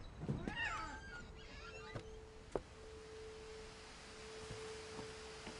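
A cat meows in the video game What Remains of Edith Finch, a couple of rising, wavering calls near the start, followed by a steady electronic tone with soft clicks and room ambience.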